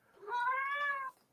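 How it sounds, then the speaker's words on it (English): A cat gives a single clear meow, close and about a second long, with no other sound around it. "Oh, kitties."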